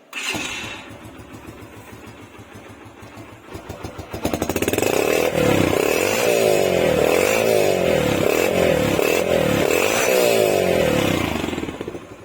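A motorcycle from a home bike collection is started with a single touch, then idles loudly and steadily for several seconds with a rhythmic pulsing throb, close by and without speech.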